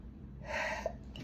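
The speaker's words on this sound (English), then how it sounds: "I feel like I got to sneeze" One close, sharp human sneeze with a breathy build-up, blamed on irritated sinuses from changing weather, bursting out alone with no talk over it.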